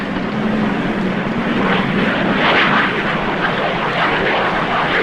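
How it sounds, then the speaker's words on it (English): A 1950s-era propeller airplane drones overhead, a loud and steady engine roar with a faint swell midway that fills the whole clip, with no voices. "Hey, look! Airplane!"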